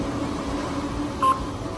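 The control panel of a Sansei SA-MQ4 electronic straight-stitch sewing machine gives one short, clear electronic beep as it unlocks, heard over a steady low hum with no talking.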